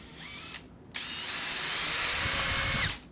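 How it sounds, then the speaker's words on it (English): A Trinity drill-powered joinery tool runs in two bursts: a short whine that cuts off, then after a pause a longer, steadily rising high mechanical whir that stops abruptly near the end. "my new drill-powered joinery tool"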